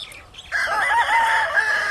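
A black Jap McRae game rooster on a Hawaii game farm lets out one loud, close crow that starts abruptly and holds its drawn-out call for over a second.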